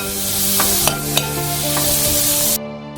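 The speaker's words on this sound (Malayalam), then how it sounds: "ഇനി അതിലേക്ക് നമ്മുടെ തക്കാളി ഇട്ട് കൊടുക്കാം. തക്കാളി നല്ലപോലെ വെന്ത് വന്നിട്ട് അതൊന്ന് ഇളക്കി കൊടുക്കാം." Tomatoes sizzle steadily in a hot frying pan, close and loud, with a few light scraping clinks of stirring before the sizzle drops away abruptly near the end.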